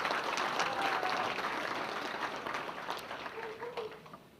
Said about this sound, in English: if we can get a round of applause for Cliff